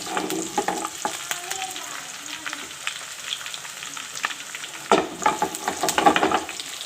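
Ginger sizzles and crackles in hot oil for a masoor dal tadka, with scattered pops and a louder burst of spattering near the end as the pan is stirred.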